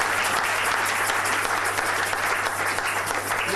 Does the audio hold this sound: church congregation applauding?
yes